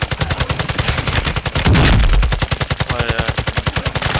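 Sustained automatic gunfire from Warzone Quads gameplay at night in Al Mazrah City, a loud rapid rattle of evenly spaced shots running throughout, with a heavier burst near the middle.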